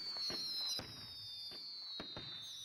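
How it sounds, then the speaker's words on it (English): Fireworks burst in a string of sharp, booming explosions, about five distinct cracks spaced unevenly over a few seconds, near and fairly loud, with a steady high whistling tone running underneath. "So that's what fireworks look like."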